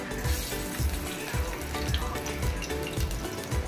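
Garlic fries in hot oil in a cooking pot for a fish curry, a steady dense sizzle with soft low bumps and stirring throughout.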